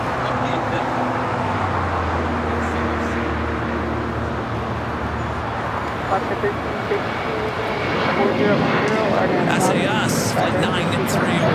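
An airliner in Toontown livery takes off at LAX, giving a loud, continuous engine roar and broadband rush that swells near the end, with distant traffic underneath and a voice talking over it.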